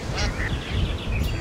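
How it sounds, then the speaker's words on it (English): Cartoon duck quacking beside a pond, several quick, bright quacks in a short burst, close and clear. "So that's a duck."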